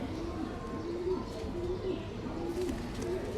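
Teddy Ferozpuri pigeons coo in soft repeated low calls, a steady close murmur of several birds with faint chirps and background noise.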